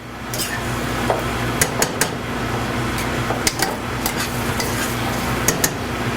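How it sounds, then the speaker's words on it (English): Steady sizzling of ackee filling sautéing in a pan, with scattered clinks and scrapes of a utensil stirring against the metal. "So we saute that for a little bit."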